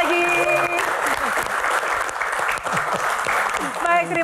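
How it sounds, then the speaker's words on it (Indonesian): Sustained applause from a crowd, steady clapping filling the room throughout, with a voice speaking over it near the start and end. "tepuk tangan untuk panelis dan juga rekan-rekan mahasiswa sekali"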